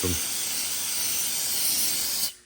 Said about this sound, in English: Take some brake cleaner, get it all good.